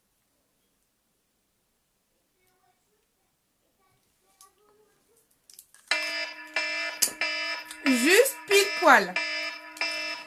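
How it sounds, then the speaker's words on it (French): A kitchen-style timer alarm rings for about four seconds with rapid, repeated electronic beeping, loud and close, with someone speaking over it during a timed five-minute makeup challenge. "coupons le minuteur du coup"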